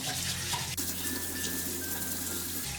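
Tap water runs steadily and loudly into a sink while a brush scrubs a crab's shell, with a faint knock partway through and the flow cutting off near the end.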